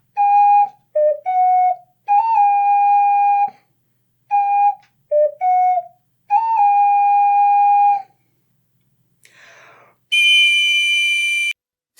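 Steady whistle-like tones from a recorder-style square windway mouthpiece, played as a series of held and short notes with small pitch slides, loud and alone, followed by a brief rustle and a bright high-pitched blast.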